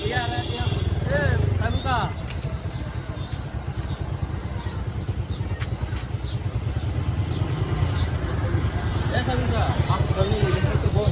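Motorcycle engines idle and rev close by in a steady drone as more motorcycles arrive on a group ride in Nabinagar, Brahmanbaria, while several people talk over the noise.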